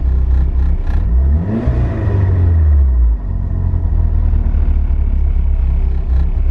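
A big-turbo DSM car engine idles loudly up close, a deep steady rumble with a brief rise in revs partway through before settling back to idle.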